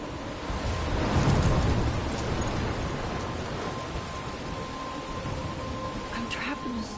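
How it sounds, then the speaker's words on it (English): Heavy rain pours steadily in a thunderstorm in the Life is Strange video game, with a low rumble of thunder swelling early and fading under the continuous downpour. "I'm trapped in a storm?"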